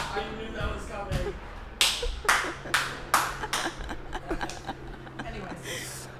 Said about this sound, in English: I just had to clap for that one